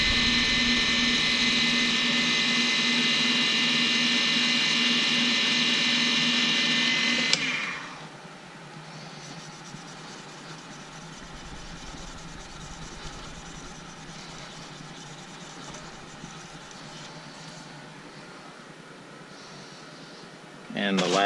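A lathe spins a turned pen while 400 grit sandpaper is applied, a loud high whine for several seconds that cuts off into a much quieter hum.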